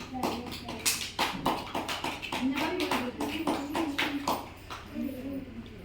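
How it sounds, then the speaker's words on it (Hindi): Rhythmic hand-clapping by children in a classroom, a long run of crisp, evenly spaced claps that keeps time with a group singing or chanting, close and clear. "तालियां बजाओ"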